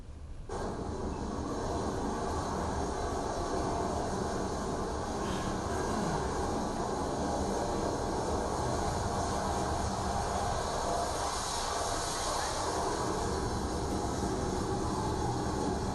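A naval F-29 MK fighter jet taking off, heard as a steady, loud broadband roar with hiss that holds evenly throughout, with no voices over it.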